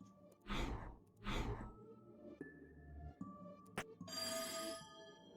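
A teletrophone prototype rings with a short bell-like tone in the game There Is No Game, heard between loud sighing breaths, with a brighter burst of ringing near the end.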